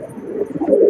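Pigeons coo in a short, low, warbling burst as they head back into their coop, close and fairly loud.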